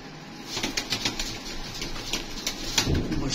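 A Bateray pigeon flaps its wings in a series of quick, papery bursts, close and moderately loud, with a faint coo underneath.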